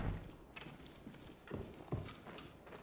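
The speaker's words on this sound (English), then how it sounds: "you can hear a whole bunch of fucking footsteps" Footsteps in the tactical shooter Ready or Not, a series of thudding steps at irregular intervals set against a steady, noisy game background, with a few louder impacts near the middle.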